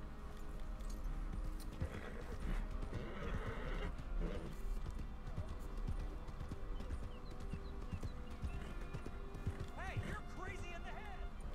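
Neighing and clip-clop hoofbeats from a horse in a video game, the steady hooves running under loud talk, with a whinny partway through.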